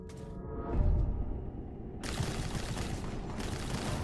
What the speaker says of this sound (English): The gunshots are just that much louder than our voice.